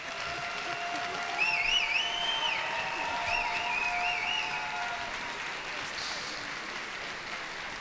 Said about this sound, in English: If you clap very, very strong, you want us on stage